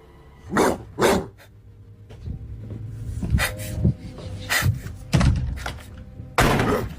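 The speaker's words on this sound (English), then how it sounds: "Even though there was no dog in sight, the barking continued and seemed to get closer and closer." A dog barks repeatedly in short bursts, some loud and close, others fainter, with thumping knocks in between and no speech.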